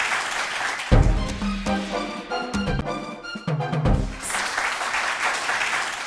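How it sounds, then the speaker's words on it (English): An audience at a school quiz competition breaks into a burst of clapping, which gives way to a short tonal musical jingle before broad applause-like noise swells again toward the end. "A round of applause."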